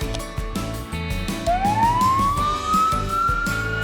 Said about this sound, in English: This is fire truck.